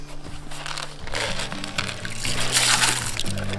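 Water poured into a bucket trap for chipmunks and mice, a steady splashing, gurgling pour close by with some crinkling handling noise, rising in loudness toward the end, without speech.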